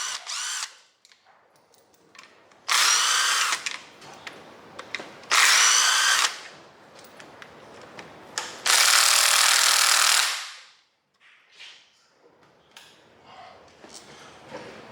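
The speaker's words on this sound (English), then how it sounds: "Break out a ratchet." A power ratchet spins rusty engine bolts loose on a 5.3 engine being disassembled, in several loud whirring bursts of one to two seconds separated by quiet pauses and small clinks.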